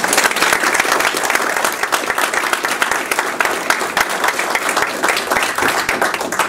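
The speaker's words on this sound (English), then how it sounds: "let's give Dale a round of applause." An audience breaks into steady, loud applause, many hands clapping together continuously without a break.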